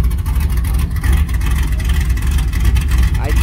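A Chevrolet 5.3 V8 truck engine fitted with a BTR stage 4 cam idles loud and close, with a deep, lumpy, choppy rumble and an uneven pulsing exhaust beat.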